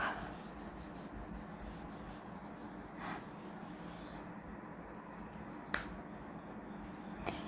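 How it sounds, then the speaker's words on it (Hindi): Pen or marker strokes on a board or page while writing out a matrix inverse step, faint scratchy rubbing in short bursts with a couple of sharp taps, over a low steady background hum, no talking. "यहाँ पे मैं लिख देती हूँ अगला स्टेप"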